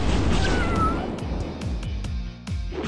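A cat soldier enemy in the video game Epic Battle Fantasy 4 gives a short rising-and-falling meow over loud game sound with a steady series of thumping beats.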